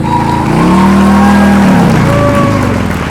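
A motorcycle engine during slow-speed riding practice revs loudly and close by, its droning whine held high before dropping and rising again.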